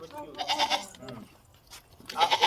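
A young goat bleats twice with short, wavering cries separated by a pause, close and fairly loud, with some background rustle.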